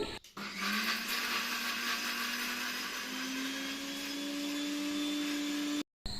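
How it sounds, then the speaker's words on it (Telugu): Electric mixer grinder whirring steadily as it grinds pieces of ginger, raw turmeric and onion, a loud close motor drone that rises slightly in pitch partway through before cutting off abruptly near the end. "అల్లం ముక్కలు పచ్చి పసుపు ఇవన్నీ వేసి ఉల్లిపాయ ముక్కలు వేసి మిక్సీ పట్టేసి"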